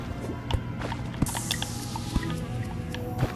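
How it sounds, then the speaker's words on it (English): Water drains in the Terraria video game, a continuous gurgling, splashing wash of liquid with scattered soft drips and pops running steadily throughout. "Letting all that water drain so we can explore this new area."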